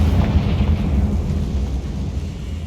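A Confringo blasting spell goes off in Hogwarts Legacy with a loud, sustained explosive roar and deep rumble that holds steady for nearly three seconds, with no voices over it.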